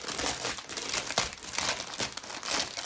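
Zip-lock plastic bags of diamond painting drills handled and crinkled up close, a continuous busy rustling and crackling of plastic for the whole stretch.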